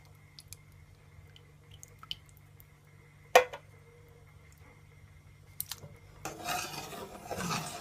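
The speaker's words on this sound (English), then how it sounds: "So now I'm gonna add my coconut milk." Coconut milk poured into a pot of Jamaican rice and peas with pigtail, beginning with a few clinks and taps, then a soft, rushing pour over a faint background hum.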